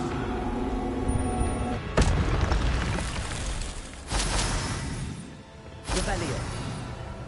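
Repeated Incendio fire spell blasts in the Hogwarts Legacy video game, three sudden whooshing bursts roughly two seconds apart, each flaring loudly then decaying into a roaring hiss.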